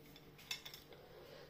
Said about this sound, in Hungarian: Veszek elő egy tányért.